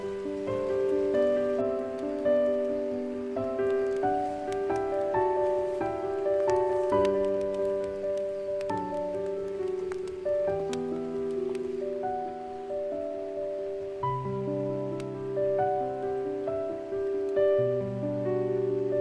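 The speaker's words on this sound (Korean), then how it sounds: "뒷뜰과 앞마당에도 빠짐없이 비가 내립니다." Rain falls steadily on a backyard and front yard in spring, giving a continuous soft patter that is present throughout. Sustained musical tones play over it, and no voice is heard.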